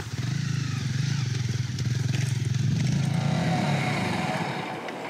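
A Honda CRF250 Rally motorcycle riding off-road, its single-cylinder engine loud and close with a steady, pulsing rasp, briefly rising in revs before easing off toward the end.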